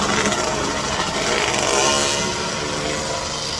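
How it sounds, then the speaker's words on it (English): Loud, continuous high-revving dirt bike engine, a raw buzzing roar holding steady and close throughout with no talk. "Dirt bike something."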